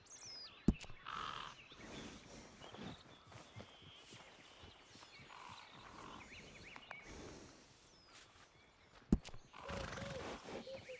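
A horse whinnies and snorts nearby while hooves clip-clop at a walking pace, with faint birdsong in the background, in the video game Red Dead Redemption 2 at Strawberry.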